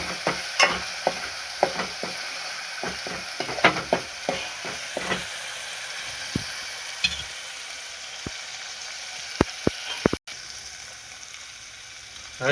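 Desi chana gravy simmers and cooks in a pan with a steady sizzle, broken by frequent scraping stirs and clinks of a spoon against the pot, close and alone.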